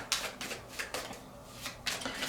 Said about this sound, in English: The Dreamscape Tarot, which is what I'm shuffling right now